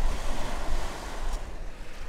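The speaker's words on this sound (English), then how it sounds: "It's so windy too" Strong wind roars and buffets the microphone nonstop on a rocky beach, mixed with the rush of surf on the shore, loud and close, with no voices.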